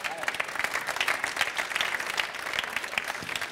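Audience applause at the CODE_n15 award show: a dense, steady wash of many hands clapping that holds fairly loud and even for a few seconds without pause.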